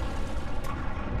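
Rocket engine ignition in Kerbal Space Program with the RP-1 mod, a dense, continuous roaring rumble that holds steady and loud throughout with no talking.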